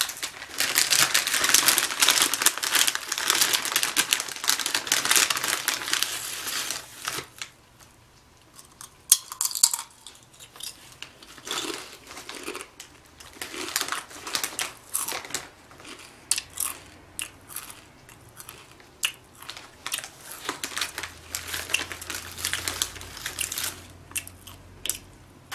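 Close, crisp crunching of Cool Ranch and Nacho Cheese Doritos chips at an ASMR mukbang, with a dense burst of crinkling and crunching at first, then scattered bites and chewing, without talk.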